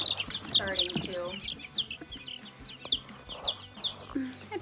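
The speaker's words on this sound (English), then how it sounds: "you might as well have some little chicks starting too" Baby chicks peep steadily on a homestead, their high, rapid chirps repeating close by throughout, with a voice briefly audible early on.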